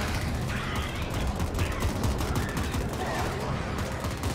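Automatic gunfire in The Ascent, a continuous rattling fusillade that holds loud and dense throughout, with voices talking over the shooting.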